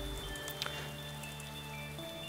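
Steady rain from the video game DayZ, a soft continuous patter and hiss over a low background hum, no voices.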